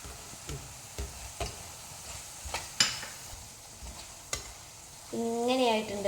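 Spices, including coriander powder and turmeric, are stirred and fried in a pan for fish head curry: steady scraping strokes over a soft sizzle, with a brighter sizzle and a brief tonal sound near the end.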